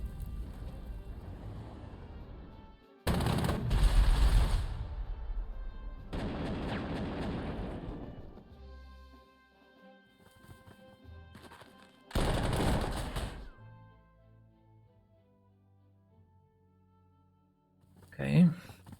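Artillery fire on an anti-air unit in the WWII strategy game Panzer Corps 2 comes as loud booming blasts with rumbling tails in separate bursts, set against quiet game music.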